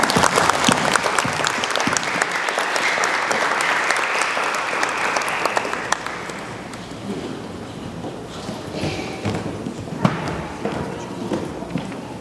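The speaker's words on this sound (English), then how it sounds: "Please join me in giving a round of warm applause for Dr." Warm applause from an audience welcoming Dr. Lobsang Sangay to a youth interactive session in Toronto: dense, loud clapping for about six seconds that then thins and fades as scattered claps and murmuring voices remain.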